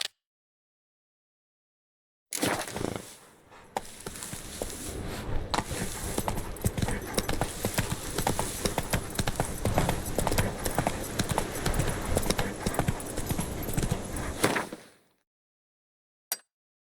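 Horse hooves clip-clop at a steady canter pace while riding in the video game The Witcher 3, loud and continuous for about twelve seconds after a brief silence, then cut off abruptly.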